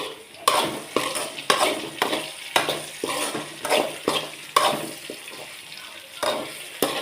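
Bitter gourd frying in a pan, with repeated loud stirring scrapes and clanks of a utensil against metal every half second or so over an underlying sizzle.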